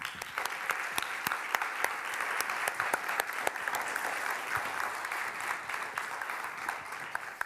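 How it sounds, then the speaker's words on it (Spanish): Audience applause for presidential pre-candidates at the close of a debate on drug policy, a steady roomful of clapping that holds level for several seconds with no voices over it. "por favor acompáñenme un aplauso muy sincero"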